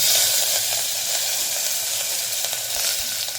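Asafoetida and curry leaves sizzle in hot oil in a kadhai while moong dal khichdi is prepared, a loud, steady, dense crackling hiss with small popping bursts throughout, no voices.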